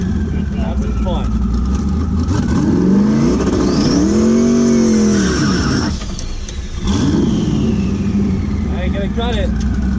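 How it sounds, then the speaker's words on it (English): A race car on its first pass of the night revs hard while heating up its tires, with engine pitch swooping up and down in loud close bursts and a longer rising rev, and people talk over it. "first pass of the night. Heat up the tires."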